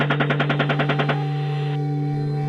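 A rapid burst of about a dozen evenly spaced automatic gunshots fires from a helicopter engaging targets, followed by a steady mechanical drone from the aircraft.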